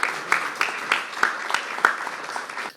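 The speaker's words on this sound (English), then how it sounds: "If we could have a round of applause for our panelists and our keynote speaker." An audience at a conference gives a round of applause for the panelists and keynote speaker: a steady wash of clapping with distinct claps popping out at a fairly regular beat, fading out at the end.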